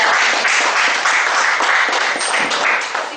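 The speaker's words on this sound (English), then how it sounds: "Give a round of applause for" Audience applause fills a speakers forum meeting room, a dense, steady wash of many hands clapping close by, holding strong throughout and easing slightly at the end.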